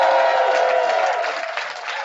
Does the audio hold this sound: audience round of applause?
yes